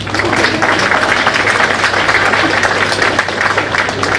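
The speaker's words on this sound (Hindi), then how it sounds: "ताली कम क्यों बजी समोसे पे?" Dense, steady applause from an audience at an enrolment meeting fills the room, a continuous close wash of many hands with a low electrical hum beneath it.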